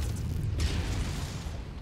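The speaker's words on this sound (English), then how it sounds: "Ooh, an ammo explosion happened." Ammo explosion in the video game MechWarrior 5: Mercenaries, a deep rumbling boom with a sharp crackling burst, loud and sustained before tapering off.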